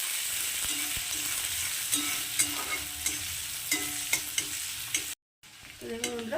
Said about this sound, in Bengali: পেঁয়াজ কুচি দিয়ে তো পেঁয়াজটাকে একটু হালকা ভেজে নেব